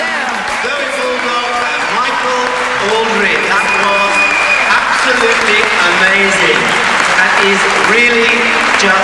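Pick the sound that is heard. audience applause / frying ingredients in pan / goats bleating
audience applause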